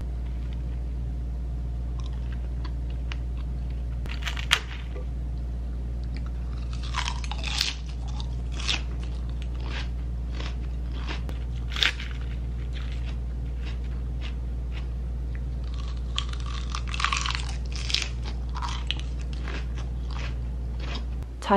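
Crisp, crunchy chewing of a plant-based meal with sweet potato, heard as repeated close, sharp bites and crunches scattered through the clip over a quiet, steady low hum.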